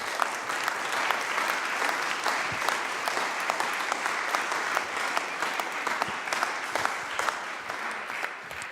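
Steady applause from an indoor audience at a live Occitan-language show in Tarbes, dense and continuous clapping with sharp individual claps standing out, holding at an even level throughout with no voices above it.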